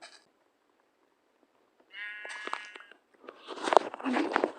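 Sheep bleating in the Minecraft video game, a couple of short, fairly close bleats from about two seconds on, followed by a denser burst of game sounds near the end, with no talk over them.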